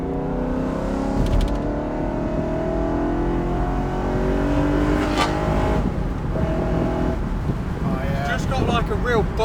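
BMW E9x M3 with its S65 V8 and a carbon fibre intake snarls loudly, the revs climbing in a rising sweep while voices talk over the engine.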